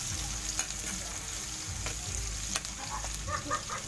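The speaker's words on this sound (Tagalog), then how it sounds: "Sagisahin niyo guys hanggang sa pumula." Garlic sautéing in a pan for alibangbang chicken makes a constant, fairly faint crackling sizzle. Occasional light stirring ticks come through, and nobody speaks.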